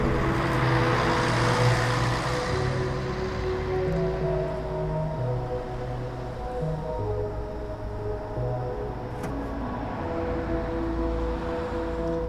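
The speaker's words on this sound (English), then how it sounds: "he wanted me to get rid of these cars passing" Cars pass by on a road, heard as a steady, low engine and tyre rumble that swells and fades in the background with no voices.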